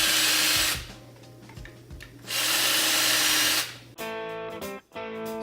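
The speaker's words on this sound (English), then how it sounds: "And I drill a couple in the cup holder." A power drill whines loudly in two long bursts, drilling holes in a cup holder, with quieter handling noises between, then a different rhythmic mechanical buzz takes over.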